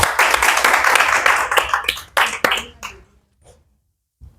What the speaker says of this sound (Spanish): Vamos a brindarle un fuerte aplauso a Nelly.